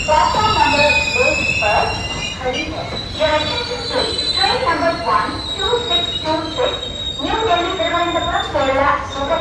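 A MEMU electric multiple-unit commuter train runs on rails near Thrissur, giving a steady loud rumble and clatter with high, sustained wheel squeal through the whole stretch.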